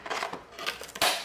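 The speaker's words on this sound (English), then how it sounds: "To get my scissors out." A pair of scissors is handled while cutting planner inserts for A5 rings, giving a few quick metallic snips and scrapes, close and clear with no talking.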